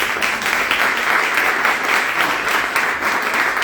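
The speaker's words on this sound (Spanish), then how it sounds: "un aplauso, bienvenida a Ellen" Warm, dense audience applause welcoming a Holocaust survivor to speak at a testimony event, a continuous wash of many hands clapping from a sizable crowd, steady throughout.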